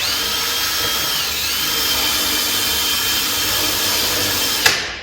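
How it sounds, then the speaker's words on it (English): A power drill whines steadily and loudly at close range while drilling out a bolt hole on a Yamaha SuperJet, a continuous high motor tone that cuts off abruptly near the end. "So we're going to drill this out."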